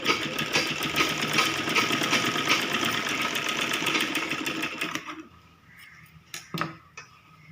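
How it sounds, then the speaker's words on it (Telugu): A sewing machine stitches a child's lehenga choli, running loud and continuous for about five seconds, then stopping, followed by a few short clicks and handling knocks. "2 సైడ్ అదే విధంగా జస్ట్ కొంచెం ఇట్లా మలుచుకొని కుట్టుకోవాలి."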